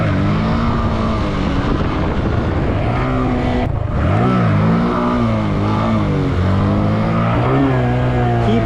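An engine revs hard as the throttle is applied, a loud, close roar whose pitch climbs and falls in repeated sweeps, with a brief dip before it surges again.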